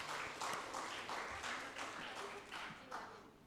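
A church congregation clapping for Children's Day during a service, rhythmic group applause with a voice speaking over it, faint and roomy.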